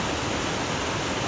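Water rushes steadily at the entrance of a fish ladder in Umpqua National Forest in Oregon. It forms a loud, unbroken broadband roar that fills the clip with no voices.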